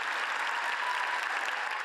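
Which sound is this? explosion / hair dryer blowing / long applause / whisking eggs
long applause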